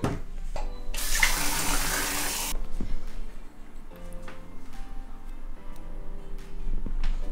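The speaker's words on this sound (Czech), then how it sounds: "naprcám tam takhle tu vodu." Water from a drinking glass splashes onto a pane of glass in a short, bright, hissing burst, followed by lighter drips and trickles, close and moderately loud.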